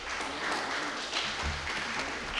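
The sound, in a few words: applause for Banister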